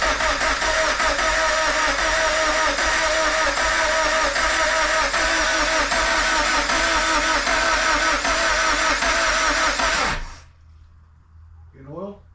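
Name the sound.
Scion FR-S rebuilt engine cranking over on first start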